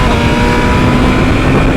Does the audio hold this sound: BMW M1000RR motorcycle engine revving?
yes